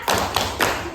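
A primary school class claps together in a quick rhythmic pattern, three close, loud thudding claps in about a second, with no talk over them.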